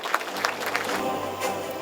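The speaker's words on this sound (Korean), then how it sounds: "큰 박수로 모시겠습니다." Audience applause at the 27th Biseulsan Azalea Culture Festival, a dense, steady patter of many hands clapping together to welcome the county head to the stage. It is brief and fairly even throughout.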